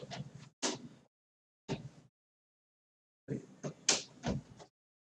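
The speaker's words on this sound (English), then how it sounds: "Let me just close my door" A bedroom door being pushed shut, heard as a few separate close thuds and rattles spread across several seconds with quiet gaps between them, and no voices.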